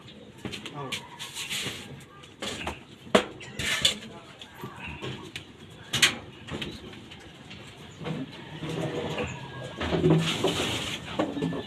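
Pigeons cooing and fluttering in a loft, soft intermittent calls and wing or movement bursts over faint background, with people talking quietly at times.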